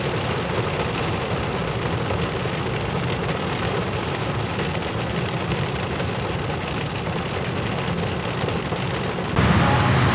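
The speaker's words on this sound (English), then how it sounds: "Wow, it is really raining out there." Heavy rain pours down steadily in a dense, unbroken roar, growing slightly louder near the end.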